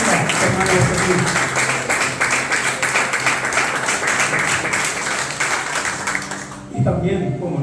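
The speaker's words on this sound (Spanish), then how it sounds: "Así que un aplauso grande al Señor." A congregation at a Spanish-language church service breaks into loud, sustained applause, a dense wash of clapping that runs for several seconds and then suddenly cuts off.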